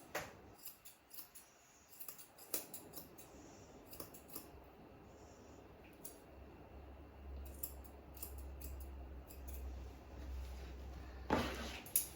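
Scissors trim the fur on a dog's foot in quick, faint close-up snips, sometimes in short bursts, with a low hum under part of it and no talk.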